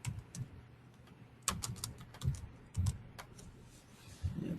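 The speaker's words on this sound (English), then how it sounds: "type that in" Someone types on a computer keyboard, a quiet, close, irregular patter of key clicks in short bursts.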